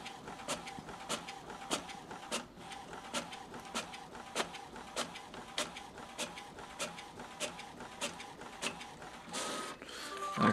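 A printer runs through a page printed from a Samsung Galaxy S3 via OTG, its mechanism ticking and clacking in a steady rhythm of regular pulses, fairly quiet, ending with a louder whir.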